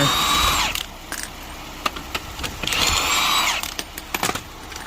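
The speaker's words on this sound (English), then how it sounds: "let's take this other 2 lug nuts off here" A power tool (drill-type impact driver) removes lug nuts from a Land Rover LR4 wheel while changing a flat tire, giving two loud whirring bursts near the start and middle, separated by clicks and rattles of handling.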